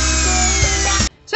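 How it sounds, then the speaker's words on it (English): A power drill bores into a wooden sunglass case, a loud close whine with a slight dip partway through, then it cuts off abruptly and a short clatter follows. "So after drilling 4 holes into the wooden case"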